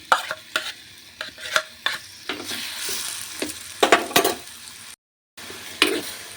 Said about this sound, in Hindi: भूनूंगी, क्योंकि भूनना थोड़ी सी ज़रूरी है। इसकी कच्चापन जो है वो निकल जाएगी